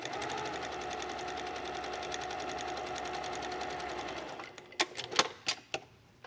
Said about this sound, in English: So I'm just going to lay this on top and just sew.